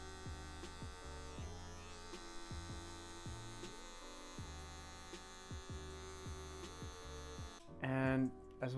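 Electric hair clippers buzz steadily up close while cutting a men's fade, with rhythmic dips and swells as the blade flicks through the hair, then a louder burst near the end.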